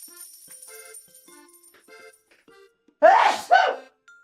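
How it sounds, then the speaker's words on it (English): A person sneezes twice in quick succession, loud and close, after a stretch of soft, tinkling background music during a tea-tasting chat. "I'm gonna sneeze here in a second."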